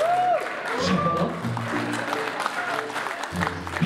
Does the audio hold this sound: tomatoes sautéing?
no